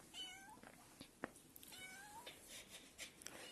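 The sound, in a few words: kittens meowing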